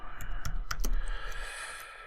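Computer keyboard typing in short clicking bursts, a few distinct keystrokes standing out close and fairly quiet against a low background hum.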